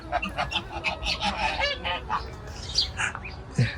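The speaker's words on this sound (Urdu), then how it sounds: "اور یہ بطخیں بھی ہیں یہاں پہ ماشاءاللہ بہت بڑی تعداد میں" Large flock of waterfowl honking and quacking continuously beside a pond in a garden in Madinah, a dense overlapping chorus of loud nasal calls close by, with no talk.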